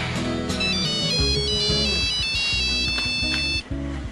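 A mobile phone ringtone plays loudly and steadily for about four seconds as a repeating electronic melody, with no talk over it, and cuts off near the end.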